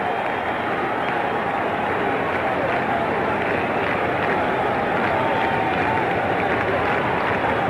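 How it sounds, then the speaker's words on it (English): A packed stadium crowd at a 1995 NLCS playoff game between the Cincinnati Reds and Atlanta Braves roars continuously as a pitch is thrown, a dense sustained wash of cheering that stays loud throughout. "The crowd roaring now with every pitch."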